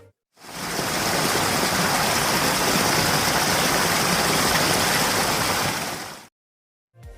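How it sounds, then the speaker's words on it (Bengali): Steady rain and rushing wind roar as a motorbike rides along an expressway in the monsoon season, heard by a passenger on the back, a loud continuous hiss for about six seconds with no talking. "অনেকদিন পরে বৃষ্টিতে ভিজতেছি ভালোই লাগতেছে"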